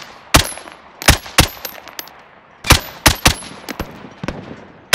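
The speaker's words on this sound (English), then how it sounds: "they're shooting at me" Gunfire in Call of Duty: Modern Warfare, loud sharp shots in quick bursts and single cracks spread across the stretch, some close and hard, others lighter, with no talking.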